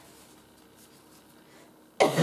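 A single sharp cough bursts out near the end after a stretch of quiet background, loud and close.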